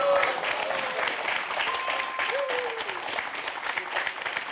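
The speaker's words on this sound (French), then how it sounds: "mais les applaudissements de vos soutiens que j'entends" Supporters in a TV quiz show studio audience applaud in a steady burst of clapping, with a voice speaking over the applause and a couple of brief tonal sounds.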